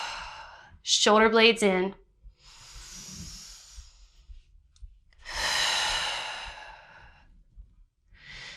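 During a bodyweight upper back and shoulder exercise, a long, slow, controlled breath is pushed out as a soft, airy hiss. A shorter breath comes before it, and a voice briefly talks over the start.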